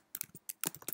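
Quick bursts of keystrokes on a computer keyboard, typed in short uneven runs with brief pauses, close and fairly quiet.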